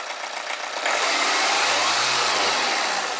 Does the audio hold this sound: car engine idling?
yes